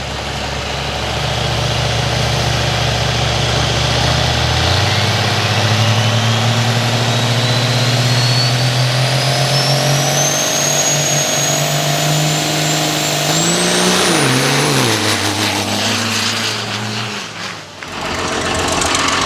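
Nitrous-fed dirt drag racing car roaring down the track on a record run, a loud sustained engine howl climbing steadily in pitch through the gears, then sputtering and backing off near the end.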